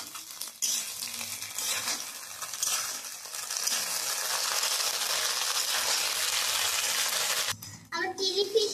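A pan of chilli fish with cornflour slurry is stirred over heat, producing a loud continuous sizzle with scraping from the spoon, then a brief break and a few clattering knocks of cookware at the end.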